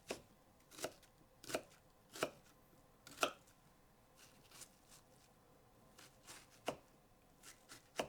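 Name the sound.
chopping onion with a knife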